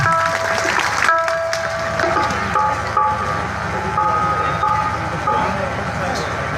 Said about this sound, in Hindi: जोरदार ताली बजा करके और स्वागत करें